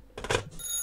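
A telephone rings with an incoming call, a brief bright burst of bell-like ringing up close, alone with no talk over it.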